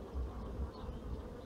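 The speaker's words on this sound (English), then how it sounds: "you can see a bit of a dance going on there, and bees meeting each other at the door" Honey bees buzzing at a hive entrance while a newly hived swarm settles, a steady close droning hum with slight swells in loudness and no voices.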